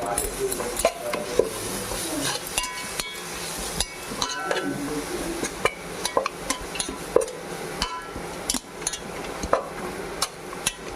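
A spoon stirs onion, tomato pieces and paste in a hot pan for chicken fry biryani, with repeated scraping strokes, sharp metal clinks and a light sizzle underneath.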